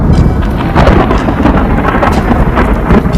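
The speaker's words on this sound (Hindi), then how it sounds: "इस्लामाबाद के पुरसुकून आसमान पर एक गरजता हुआ खौफनाक बादल" Loud thunder from a storm cloud over Islamabad, a continuous deep rumbling roll with rain hissing beneath it, no voices present.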